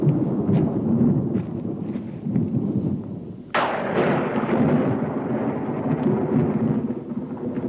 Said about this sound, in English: doesn't want to get caught when the storm lets loose